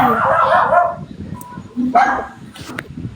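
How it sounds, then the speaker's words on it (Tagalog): A dog barks a few times close by, short sharp yaps separated by brief pauses, with some noise in between. "Kaninong aso yun?"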